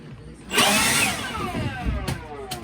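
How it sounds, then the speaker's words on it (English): A leaf blower roars loudly with a rushing whoosh, its whining pitch sliding downward as it runs. "nice leaf blower."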